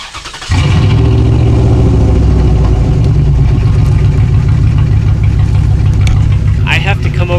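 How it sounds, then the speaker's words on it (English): A Dodge Ram 1500 V8 truck on straight pipe exhaust fires up and settles into a loud, deep, rumbling idle that drones on steadily, heard up close with a voice speaking over it. "the guy that owned this truck before thought that this truck sounded better straight pipes"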